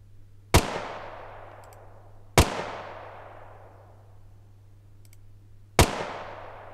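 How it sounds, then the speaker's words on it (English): Three sharp, loud Beretta pistol shots from the Krotos Weaponizer sound design plugin, each a single crack with a long decaying tail, spaced a couple of seconds apart over a faint steady hum. "So let's try and load a regular real world pistol, a Beretta pistol."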